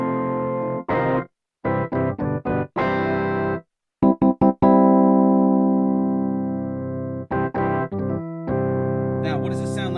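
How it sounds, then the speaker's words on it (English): Electric guitar through Eventide CrushStation played in short choppy bursts, then sustained chords, with a thick doubled tone from an octave effect layering lower and higher pitches. "Now listen what happens when I turn up the octave."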